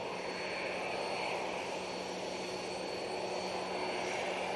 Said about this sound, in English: let's just pan down this aircraft